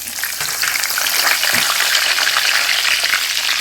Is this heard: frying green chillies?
yes